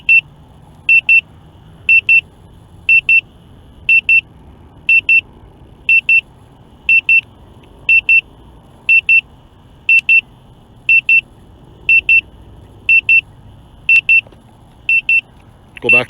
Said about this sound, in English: Continuing the beep.